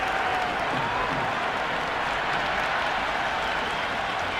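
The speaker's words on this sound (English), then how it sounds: "The crowd are really getting quite raucous." A raucous cricket stadium crowd in the Cricket 26 video game cheers and claps in a dense, unbroken wall of noise that stays loud and even throughout.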